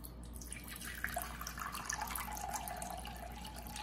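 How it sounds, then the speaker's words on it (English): Tap water pours steadily over a highlighter held under the stream, a continuous close splashing hiss with a few droplet-like accents throughout. "Hold it under pouring water."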